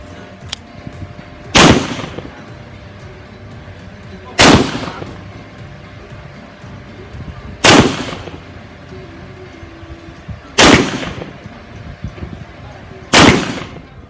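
A Beretta 92 FS pistol fires five sharp, evenly spaced shots at a shooting range, each crack loud and close with a short echoing tail over quiet background.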